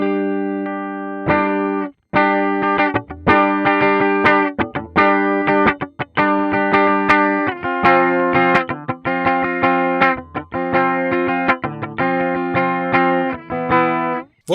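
Electric guitar played through an Ampero One with delay and reverb switched off, a dry, close riff of rhythmic chord stabs and short muted gaps over about fifteen seconds, no speech.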